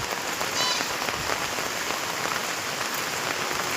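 Rain falls in a steady, even wash of hissing drops on surfaces, moderately loud and unbroken, with a faint thin call briefly rising above it early on.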